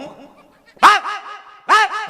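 A man imitates a dog barking during a comic stage performance, two loud, sharp bark-like yelps separated by a pause, with a fainter vocal sound before them.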